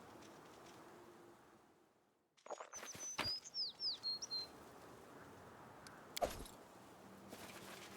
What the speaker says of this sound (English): A bird with bright iridescent feathers sings its song and shows no fear as you approach.